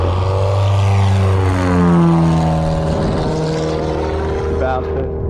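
A banner towing propeller plane drones loudly past at close range, its engine pitch sliding downward as it passes, with a voice commenting over the noise.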